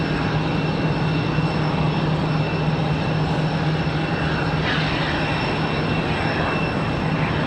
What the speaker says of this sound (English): It's like Crockett the Raccoon starting engines over there from the D gates.